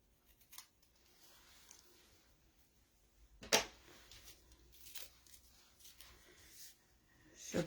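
Scissors snip wood grain paper for a handmade card: quiet, with a few short crisp cuts and one sharper snip midway, plus faint paper handling.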